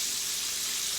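Chicken frying in hot grease on a home stove gives a steady, even sizzling hiss, close and continuous with no breaks.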